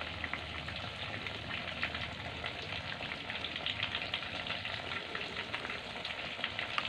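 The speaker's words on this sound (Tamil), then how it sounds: "நல்லா பொரிஞ்சிடட்டும்" Chicken pieces frying in hot oil for shawarma, a steady dense sizzle with fine crackling pops running unbroken throughout, close and moderately loud, no voices.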